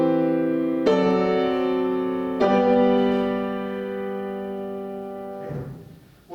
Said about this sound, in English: let me just play that piano